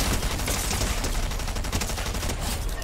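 Rapid assault rifle fire in Fortnite, a dense loud burst of repeated shots sustained for a few seconds with no talking.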